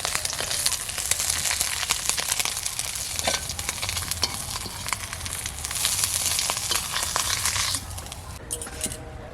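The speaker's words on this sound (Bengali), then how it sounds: "এই দেখুন মাছ ভাজা হয়ে গেছে, মাছগুলো এবারে তুলে নেব।" Loud, continuous sizzling and crackling of small puti fish frying in hot oil, with occasional clinks, easing off near the end.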